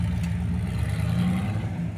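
A rock crawler car working a course at a WERock rock-crawling competition, its engine holding a steady, low, gravelly drone under light throttle, close and continuous with no voices.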